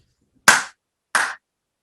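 Two single hand claps by a teacher during a lecture, each a sharp, loud, close crack with a short decay, separated by roughly half a second of silence.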